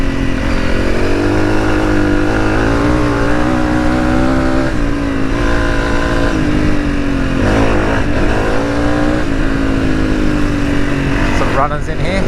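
A Honda CRF300 dirt bike with a stage 4 setup accelerating hard on a high-speed test track, engine loud and near, pitch climbing and dropping through gear changes, with a voice talking over it.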